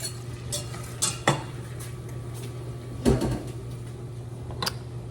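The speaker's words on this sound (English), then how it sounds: "stir in the flour and the onion and the salt and the pepper" Spoon stirring flour, onion, salt and pepper in a pot for homemade chicken pot pie, with faint scraping and a few sharp clinks of utensil against cookware over a low kitchen hum.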